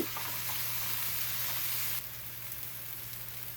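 Spice mix with chopped tomato fries in a pan, giving a steady, even sizzle that runs the whole time and drops slightly in level partway through, with no talk over it.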